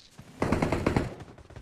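Gunfire crackles in the battle-royale video game PUBG, with a quick burst of several rapid shots close by. Quieter ambient game sound comes before and after.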